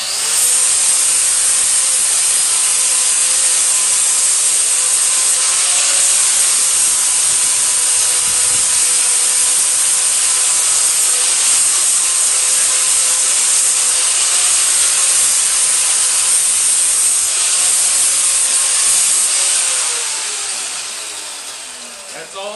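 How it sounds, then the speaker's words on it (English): An angle grinder scours mill scale off the rough edges of a burn-machine-cut steel plate for a striking anvil, a loud, continuous abrasive hiss that holds steady before tapering off at the end. "around the edges of this with my angle grinder. Clean all the scale off"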